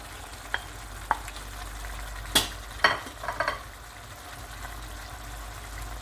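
Frozen okra tipped into a hot pot of tender lamb in sauce: a few sharp clatters and sizzling bursts stand out, then a low steady simmer carries on without talk.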